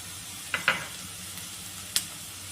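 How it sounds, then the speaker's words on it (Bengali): Spices sizzle in hot oil over already-fried potatoes for aloo posto, with turmeric, chilli powder, salt and slit green chillies going in. A steady close hiss runs throughout, broken by a few sharp spitting pops. "এবার এখানে আমি মশলাগুলো সব দিয়ে দিব।"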